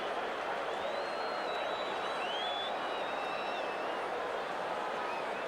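A large football crowd at a 1986 Australian Rules State of Origin match between South Australia and Victoria keeps up steady, distant applause and cheering, a broad continuous roar with scattered whistles throughout.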